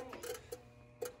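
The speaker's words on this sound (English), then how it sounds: "that noise is coming from within the low water cutoff." Three faint, sharp clicks from inside the low water cutoff of a steam boiler that is not heating and overfilling, spaced about a fifth to half a second apart, over a low mechanical hum.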